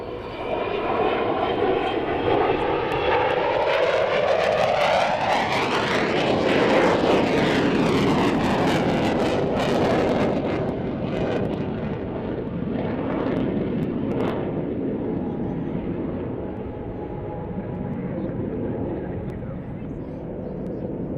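A Mirage 2000 jet roars past at an air show flying display, a loud rising whine that swells to a peak, then sweeps away into a long fading rumble, with a voice audible under the noise.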